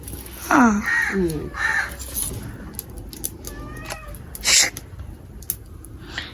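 A cat meows a few times close by at a rural home kitchen while fish curry is being cooked, with crow-like caws and other outdoor sounds around it.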